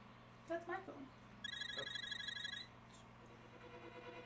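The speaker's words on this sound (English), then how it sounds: "That's my phone." A telephone rings nearby in a room with a bright trilling electronic bell burst lasting about a second, under and between bits of conversation, against a steady electrical hum.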